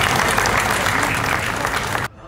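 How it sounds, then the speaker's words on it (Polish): Loud, dense clapping from a crowd at a Kashubian gathering rolls on steadily, then cuts off abruptly near the end, leaving quiet room tone. "Wielki brawa"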